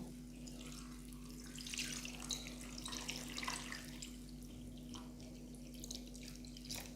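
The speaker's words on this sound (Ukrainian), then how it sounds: "і заливаю холодною водою" A cold-water tap runs steadily into a pot of salted potatoes, a continuous splashing rush with a low hum behind it, fairly quiet and unbroken.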